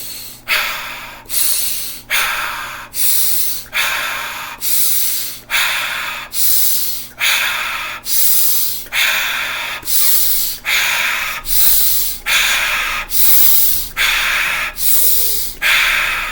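Deep Wim Hof method breathing repeats in a steady rhythm, each forceful, airy breath rushing in and out close to the microphone over a faint low hum, about a dozen cycles in a row.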